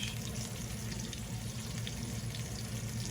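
Steak frying in a pan, a steady dense sizzle with crackling spatter and low bubbling, continuous and close throughout.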